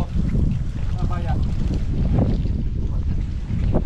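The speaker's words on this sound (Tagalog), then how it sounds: "masarap yung hangin" Gusty wind buffets the microphone with a heavy low roar, close and loud, with a voice faintly under it, outdoors while hunting mud crabs.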